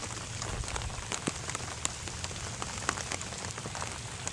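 Steady rain patters on a surface nearby, a dense hiss punctuated by sharper individual drops, with no voices.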